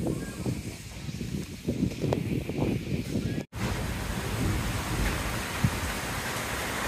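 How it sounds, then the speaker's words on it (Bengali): A thunderstorm with rain gives a steady broadband roar of rainfall and wind, with a brief dropout midway before the downpour resumes, continuous and fairly close. "হ্যাঁ ঝড় শুরু হয়ে গেছে, পুরে বৃষ্টি।"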